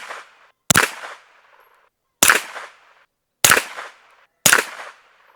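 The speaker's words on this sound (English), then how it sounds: "Let's shoot 5 more rounds at the same target." Springfield Kuna 9mm pistol-caliber carbine firing single rounds at a target, five sharp, loud cracks spaced about a second apart, each with a short decaying echo and silence between.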